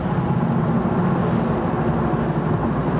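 A 1967 Ford Mustang restomod's engine pulls hard under acceleration, a loud, steady, close-up rumble with a dense low growl and no breaks or voices.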